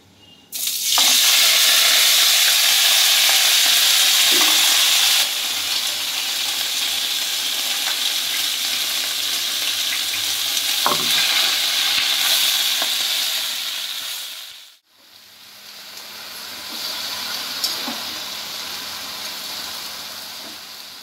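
Pumpkin greens hitting a pan and frying, a sudden loud hiss that settles into a steady sizzle, fades briefly near the end, then resumes more quietly, with no talk.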